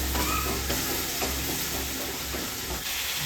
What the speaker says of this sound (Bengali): তারপর মশলাটাকে আরও কিছুক্ষণ সময়ের জন্য খুব ভালোভাবে কষিয়ে নিতে হবে।